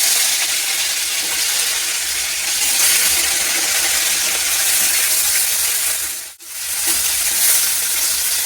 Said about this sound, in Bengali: এবার তেল দিয়ে দিচ্ছি, মাছটা ভেজে নিচ্ছি